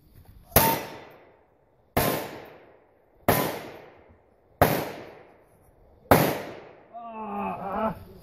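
Five sharp gunshot reports at a cowboy action shooting match, evenly spaced about a second and a half apart, each ringing out and decaying, followed by a brief shouted voice.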